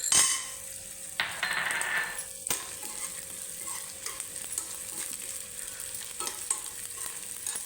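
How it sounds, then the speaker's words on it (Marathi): Edible gum frying in hot ghee, hissing and crackling steadily close by as the pieces puff, with a louder burst of bubbling and a sharp clink of a spoon against the pan early on. "तूप गरम झाल्यानंतर मग असं डिंक टाकून बघायचा थोडासा डिंक फुलाय लागला की"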